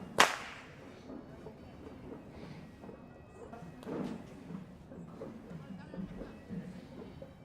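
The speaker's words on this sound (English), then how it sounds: "these whip crackers manipulate their whip very cleverly and without hurting their colleagues" Whip crackers at the Randoli Perahera procession in Sri Lanka snap their whips: one sharp, loud crack opens, followed by softer cracks amid a busy outdoor crowd and procession din.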